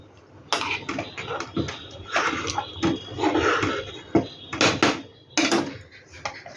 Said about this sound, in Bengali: 1 চামচের মতো ঘি দিলাম, দিয়ে ভালো করে নাড়বো।